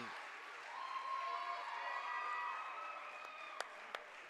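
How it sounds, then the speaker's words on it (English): Crowd in the bleachers at a varsity girls' basketball game applauds players leaving the court, a steady wash of clapping with a few sharp claps near the end, heard alongside faint voices. "As they walk off the court to a well-deserved round of applause"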